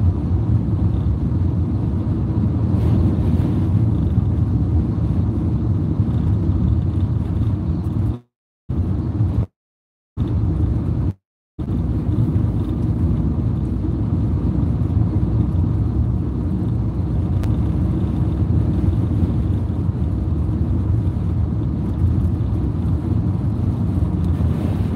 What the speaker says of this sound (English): Boy, that wind is strong